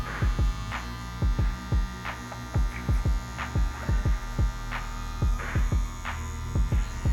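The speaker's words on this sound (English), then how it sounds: "We're gonna use the shaver, we're gonna only use the border of the machine" Electric shaver buzzing steadily while trimming hair for a bald fade on medium-length hair, with a constant close hum broken by a rapid series of short, sharp clipping ticks.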